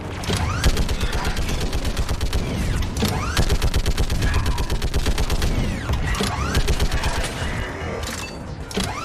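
Rapid mounted gun turret fire in the Mass Effect 3 Legendary Edition game, sustained loud bursts of repeated shots with mechanical creaking and clanking throughout, no voices over it.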